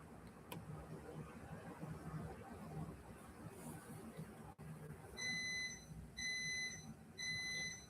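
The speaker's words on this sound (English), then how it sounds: "before we get annoyed with my microwave beeping" A microwave beeps in three repeated, steady electronic tones over a low background hum, close and fairly loud.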